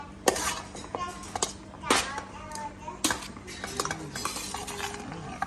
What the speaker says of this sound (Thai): เราก็จะใส่หอมใหญ่นะคะ เราหั่นแล้วก็คั้น บีบบีบคั้นใส่เกลือนิดนึงแล้วก็ไปล้างน้ำให้สะอาดแล้วก็มาใส่ค่ะ